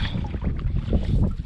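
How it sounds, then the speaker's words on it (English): A canoe moving across a large boreal lake in Wabakimi, with soft water swishes from paddle strokes and steady wind noise over the microphone, continuous and fairly close. "I've been paddling for about 2 hours straight now on this lake"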